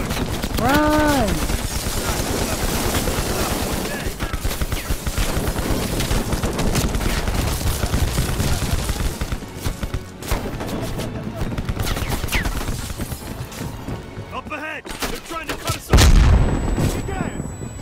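Sustained machine-gun fire from an APC in Call of Duty Black Ops Cold War hammers on almost without pause, loud and close, mixed with booms and a late heavy impact, with voices talking over it.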